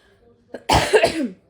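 A single harsh cough bursts out nearby, preceded by a short breathy catch, with no other sound around it.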